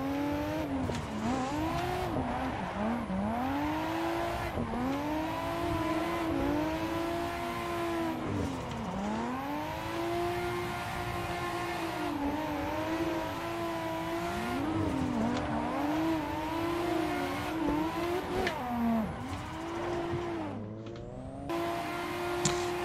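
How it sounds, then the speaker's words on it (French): Drift car in a racing simulator, engine revving hard and swooping up and down throughout with steady tire squeal, loud and continuous, no talking. "nous voilà au volant d'une voiture de drift"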